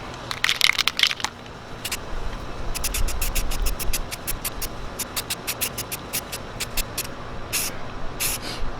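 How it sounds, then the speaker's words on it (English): Quick-dry spray paint primer hisses out onto a tumbler in quick short bursts, a rapid series of puffs with a few longer sprays, close up. "This is a quick dry type of spray paint."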